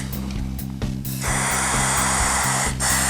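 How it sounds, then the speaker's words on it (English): A steady hiss of aerosol cleaner sprayed into an airsoft AEG motor starts partway through and continues, briefly pausing near the end, over a rhythmic mechanical hum. "And then go ahead and spray"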